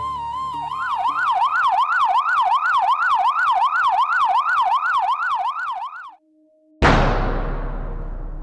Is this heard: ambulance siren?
yes